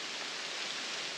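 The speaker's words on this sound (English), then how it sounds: "The rain let up a little bit" Steady rain falling, a soft broadband hiss that stays even and continuous throughout, fairly quiet and with no voices.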